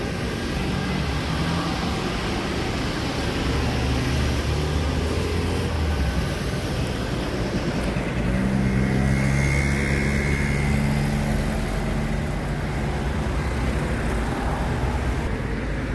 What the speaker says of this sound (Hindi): शोर थोड़ा ज़्यादा होगा क्योंकि मैं सड़क पे हूँ।